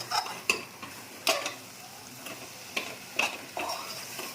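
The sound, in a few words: stirring brinjal and dried prawn curry in a pan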